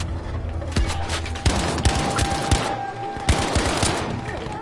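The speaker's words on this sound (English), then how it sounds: "Stop that shooting with your cannons" Cannon fire and rapid gunshots in a war-story video game, with repeated sharp bursts and booming impacts spread across the clip amid steady battle noise, loud and close.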